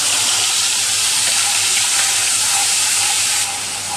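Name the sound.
onion and dried and green chili paste sautéing in pan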